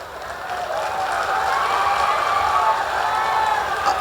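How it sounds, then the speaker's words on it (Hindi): A crowd applauds at a live Bhojpuri comedy show in Garhwa, the clapping steady and continuous as a dense wash of many hands, moderately loud and spread out across the audience. "तालियों से बताइएगा।"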